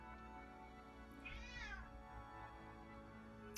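A house cat lets out a single drawn-out meow midway, faint and slightly distant over a steady low room hum, with no voices alongside.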